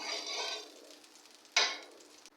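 Ghee sizzling on a hot tawa while making paratha: a faint, soft hiss fades over the first second, then a sharper sizzle flares up briefly and settles, with no talking.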